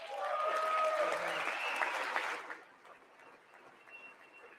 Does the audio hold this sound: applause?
yes